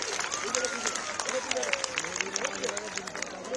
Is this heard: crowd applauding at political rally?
yes